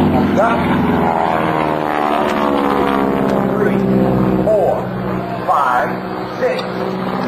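Droning propeller engine of a North American Aviation airplane performing an aerobatic roll at an air show, loud and wavering as it passes overhead, with a public-address announcer talking over it throughout.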